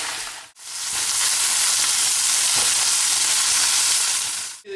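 Italian sausages, first cooked over charcoal, finishing in a frying pan for a sandwich: a loud, continuous close sizzle and hiss with brief breaks at the start and end, no voices.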